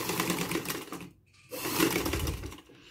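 Sewing machine stitching the decorated border of a cotton dish towel, rapid mechanical rattling bursts close up, pausing briefly midway then resuming.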